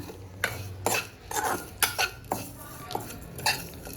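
A roasted mixture is tipped from a pan onto a plate to cool, with a series of close metallic clinks, scrapes and taps of a utensil against cookware in an uneven rhythm.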